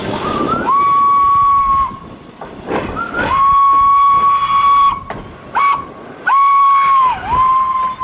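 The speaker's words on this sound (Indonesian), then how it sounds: "ada kereta api Thomas warna hijau." A toy Thomas train's whistle sounds in long steady toots, several in a row with short breaks, over faint mechanical hiss and rattle.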